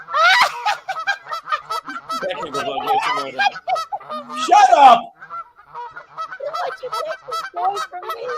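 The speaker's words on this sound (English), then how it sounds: "the geese sound effect button" A geese sound effect: geese honk loudly in a rapid, overlapping flurry of harsh calls, with a voice briefly shouting over them.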